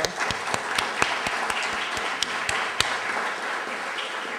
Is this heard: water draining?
no